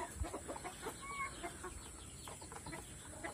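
Chickens cluck softly and intermittently at a distance an hour after a feed of crickets, with a steady high background hum and no talk.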